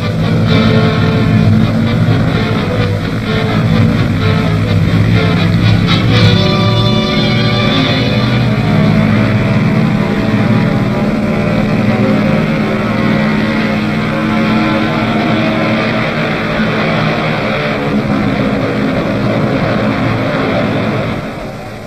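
Military aircraft engines roar loud and steady on an operational takeoff run bound for the Japanese base at Rabaul, a continuous heavy drone with no break and no voices.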